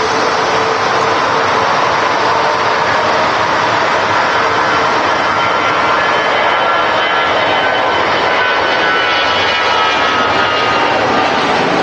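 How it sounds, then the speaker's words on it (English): A jet aircraft taxis slowly at Manchester Airport, its engines producing a loud, continuous, steady roar and whine that fills the whole stretch without a break. "Slowly taxiing in, allowing a smaller aircraft to get in front of it."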